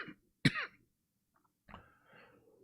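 A single sharp cough followed by a softer, drawn-out throat clearing from an older man, with brief quiet between them.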